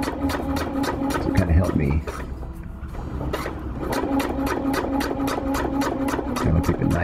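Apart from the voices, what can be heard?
sewing machine sewing a backpacking tarp ridgeline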